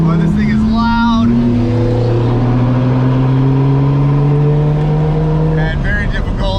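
A loud drift car engine drones on a wet street in the rain, holding a steady pitch that slides slowly, close and constant, while a voice talks over it.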